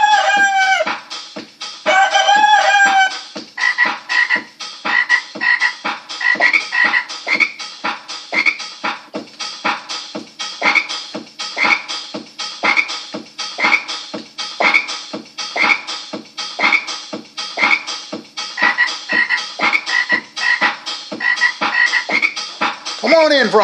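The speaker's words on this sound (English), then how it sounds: "Frogs done come in from outside because it's cold." Frogs croaking repeatedly indoors after coming in from icy cold weather, a rhythmic chorus of raspy calls throughout, with chickens clucking and a rooster crowing mixed in near the start.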